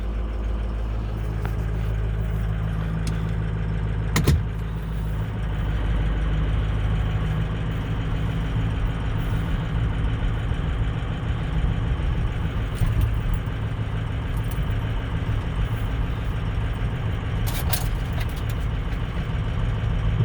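A 2005 Ford Excursion with 261k miles cruising on the road, its engine and road noise forming a steady low drone with a couple of brief sharp knocks, no talking.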